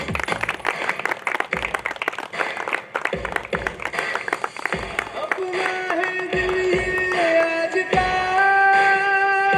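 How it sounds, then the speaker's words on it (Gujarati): Audience applause welcoming a guest at a cricket tournament opening ceremony, a dense patter of clapping from a crowd that later blends with a sustained musical tone, fairly loud and close throughout. "આપણે તાળીઓના ગળગળાટથી વધાવી લઈએ"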